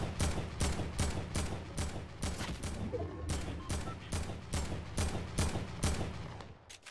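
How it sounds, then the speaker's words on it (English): Submachine gun fire in a video game, repeated rapid bursts of gunshots in a steady rhythm, loud and close, with brief gaps between bursts. "That's definitely an SMG, bud."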